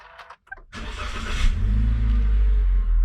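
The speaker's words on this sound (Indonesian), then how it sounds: "sekarang mari kita nyalakan dulu mobilnya" A 2018 Toyota Rush TRD Sportivo engine starting: a few clicks and brief starter whir, then the engine catches and settles into a close, steady low idle rumble.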